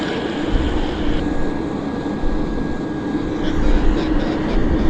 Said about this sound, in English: Oh, we've got a King Air taking off.